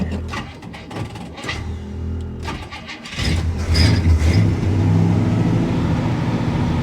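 A 1965 Cadillac engine cranks with only a little fuel left in the carburetor, several seconds of rhythmic starter churning, then it catches and settles into a loud, rough, steady running rumble.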